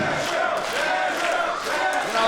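Loud, dense wrestling crowd noise from an Inspire Pro audience, a steady roar of cheering and shouting that holds through the whole moment without a break.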